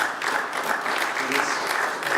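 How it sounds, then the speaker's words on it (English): A crowd at a county commission meeting breaks into sustained applause, a dense, even wash of many hands clapping that fills the room for the whole moment, with some voices underneath. "Let me ask that we hold our applause so that we can let everybody have a chance to speak"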